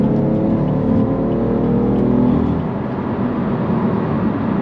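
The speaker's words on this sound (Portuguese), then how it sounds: "uma chamadinha do acelerador, ele já veio de sétima para quarta, instantaneamente" A BMW M3 Stage 2 with an SSR downpipe surges under hard acceleration as it drops from seventh to fourth gear, a loud, steady engine drone and road roar heard close from inside the cabin.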